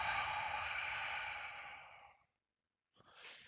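A long, loud exhale through the mouth during a calming breathing exercise, trailing off into silence before a fresh breath begins near the end.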